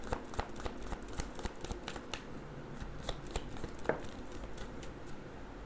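Tarot cards shuffled and pulled from a deck, a close, busy stream of crisp card riffles, slaps and flicks with a sharper snap near the end, heard alone without talk.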